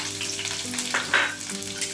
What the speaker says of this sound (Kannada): ಆ ಉಳ್ಳಿಗಡ್ಡೆಯನ್ನು ಫ್ರೈ ಮಾಡ್ಕೊಳಕ್ಕೆ ಹಾಕೋತೀನಿ.